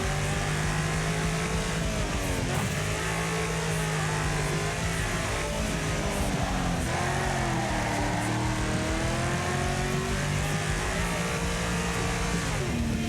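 Car engine in the racing game Wreckfest revving hard and continuously, pitch climbing and dropping as gears shift up and down, with a missed shift and a downshift to second; loud and steady throughout with no talking.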